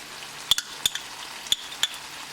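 A utensil stirs a cornstarch mixture for chilli chicken in a bowl, giving four or five sharp, light clinks spaced unevenly over a soft background hiss.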